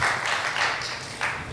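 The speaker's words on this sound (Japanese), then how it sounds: "give him a big hand" Applause from a live audience for a man at a church gathering, steady and dense for the whole stretch with a small surge near the end, no talking over it.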